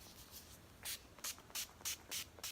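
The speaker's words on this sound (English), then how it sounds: "I'll finish it off with a little setting spray." Makeup setting spray misted onto a face, six short hissing pumps in quick succession, close and fairly quiet, with soft handling noise before the first spray.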